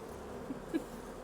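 Faint, steady insect buzzing like a bee or wasp sound effect, a low continuous drone with two slight swells, quiet and heard alone.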